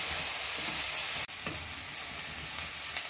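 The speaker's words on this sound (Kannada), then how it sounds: "ಹೈ ಫ್ಲೇಮ್ ಇಟ್ಟು ಚೆನ್ನಾಗಿ ಈರುಳ್ಳಿನ ಫ್ರೈ ಮಾಡ್ಕೊಳ್ಳಿ" Chopped onions deep frying in oil over a high flame for an onion wheat dosa, a steady close sizzle throughout with light stirring clatter and one brief dip partway through.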